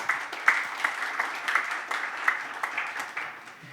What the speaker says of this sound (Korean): 큰 감사 박수 부탁드립니다